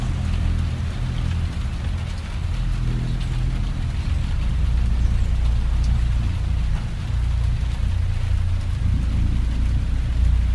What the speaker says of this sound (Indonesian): Hujan masih terdengar turun.